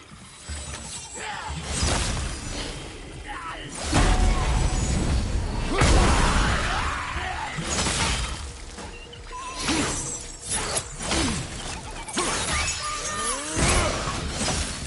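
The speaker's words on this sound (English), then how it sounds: "I'll never get tired of shattering things with this." Loud crashing shatters in God of War, breaking objects burst apart in repeated clattering bursts amid whooshes and grinding mechanical ratchets, layered with game effects and no talk.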